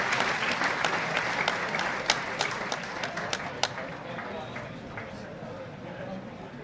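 A football stadium crowd at a KVV Quick '20 versus Southampton match applauding as a substitute goalkeeper comes on, steady broad clapping with sharper individual claps standing out, heard from a distance and continuing for several seconds.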